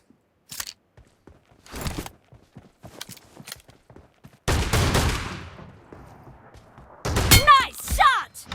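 Shotgun blasts in a 1v1 video game match ring out as a few sharp, separated shots among quieter clicks and game effects, with voice lines heard over them.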